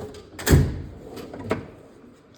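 A metal drawer of a tool chest slides and thumps shut in one loud knock, followed by lighter rattles and a final clack at the end.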